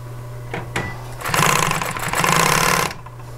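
An upholstery sewing machine stitches a seam in two quick bursts of rapid mechanical clatter, preceded by a couple of soft knocks.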